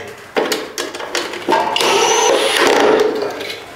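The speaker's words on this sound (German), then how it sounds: "dann schraube ich noch ein paar Schrauben nach" A power screwdriver drives screws into metal ceiling profiles for a plasterboard drywall ceiling, starting with several short bursts and then running in one sustained whir, loud and close with no voices.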